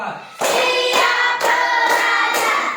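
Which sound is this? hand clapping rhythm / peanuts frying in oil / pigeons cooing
hand clapping rhythm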